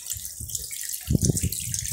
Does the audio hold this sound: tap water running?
yes